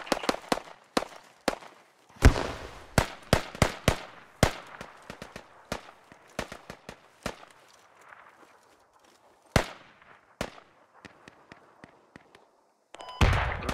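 Gunfire in the video game Squad: sharp single shots and short bursts crack out at irregular intervals, some close and loud, others farther off, with a dense volley near the end.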